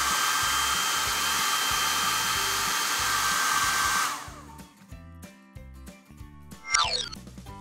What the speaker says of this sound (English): turns on the blow dryer and dries off her hair